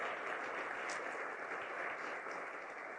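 An audience applauds a researcher being honored during a speech in the Senate, a dense, steady wash of many hands clapping that holds at an even level from start to finish with no voices over it.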